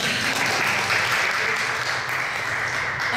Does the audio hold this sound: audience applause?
yes